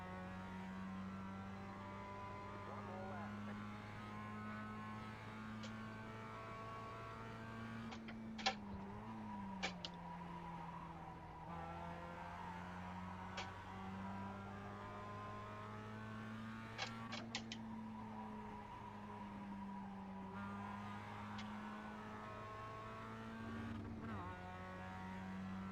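Mazda MX-5 race car on a flying lap in the iRacing sim, its engine droning steadily throughout with pitch rising and falling through gear changes, plus a few brief clicks and faint tire noise.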